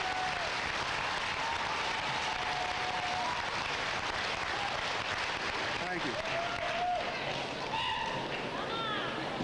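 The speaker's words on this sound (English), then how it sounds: "Let's give them an applause." A 1999 high school graduation crowd in Ste. Genevieve, Missouri applauds parents and grandparents, with steady clapping throughout the hall, scattered voices and a few cheers or whistles mixed in.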